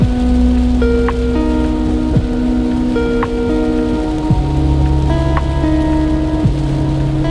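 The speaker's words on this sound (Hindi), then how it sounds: "तेज हो गई बारिश एकदम।" Heavy rain drums steadily and loudly on a vehicle, heard from inside with the wipers running, with a few short tonal beeps and hums sounding over the downpour.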